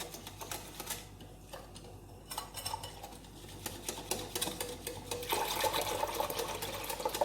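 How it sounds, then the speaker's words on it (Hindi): Water being added to kadhi pakora batter while it is stirred: soft, quiet scraping and sloshing in a bowl, a continuous irregular patter that grows a little busier and louder toward the end. "अंदर पानी ऐड करूंगी इसमें और साथ साथ हिलाते जाएंगे।"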